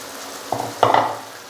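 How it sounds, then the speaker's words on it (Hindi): Lentils tipped into a pan of frying tomato masala for a dhaba-style dal chana fry, giving two short sizzling bursts with stirring scrapes, the second louder, then a fading fry. "मैं इसके अंदर दाल डालूंगा।"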